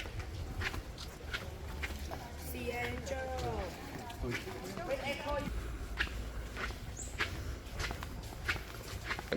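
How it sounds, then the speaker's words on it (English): Flip-flop footsteps slap steadily on a crowded tourist beach in the Phi Phi Islands. The steps stay fairly quiet under chatter and background voices. "My flip-flops are the only one making this noise."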